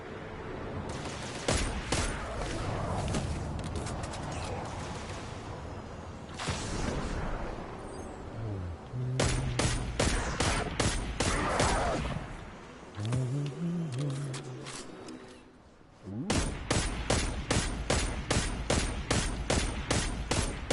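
Rifle gunfire in the video game Destiny 2, loud rapid bursts of shots in fast rhythmic volleys separated by short pauses, with deeper game effects and rumbles between them and no talking.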